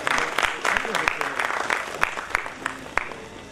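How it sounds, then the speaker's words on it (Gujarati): An audience at a centenary community event applauds with scattered, uneven clapping that thins out over a few seconds, while a voice talks over it. "ખૂબ તાળીઓથી વધાવશો"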